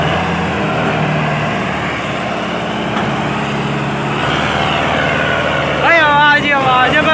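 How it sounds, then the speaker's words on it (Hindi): A Sonalika 750 DI 58 hp tractor engine idles with a steady low chug throughout, and near the end a voice starts speaking over the running motor. "58 HP का ट्रैक्टर भाई"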